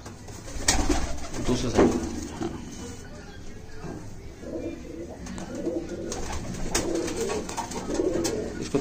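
Red-eyed Kasoori golden pigeons in moult coo in low, throaty bursts close by, with wing flutters and scattered clicks, while people talk over them at intervals.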